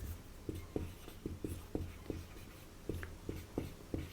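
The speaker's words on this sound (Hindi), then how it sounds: "तो अगली लाइन में लिखेंगे" Chalk or marker writing on a board during a physics lesson on Gauss's theorem, a steady series of short tapping and scratching strokes over faint room hum with no talking.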